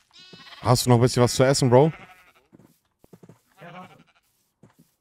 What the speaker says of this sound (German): Bitte hier, ein Schaf.